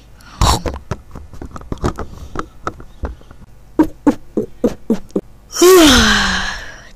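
Someone eats Toast Crunch cereal with Coca-Cola, making a run of loud, close, crisp crunching bites at an uneven pace, then a long drawn-out vocal moan.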